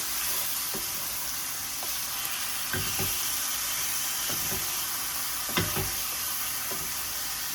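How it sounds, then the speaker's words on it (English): Greens sauté in a hot pan with a constant loud sizzle and hiss, broken by a few soft stirring knocks, no one speaking. "So after adding the greens, you just have to saute for like 2 to 3 minutes"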